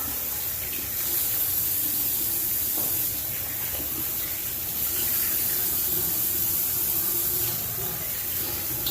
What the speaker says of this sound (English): Go ahead and do a cold water rinse.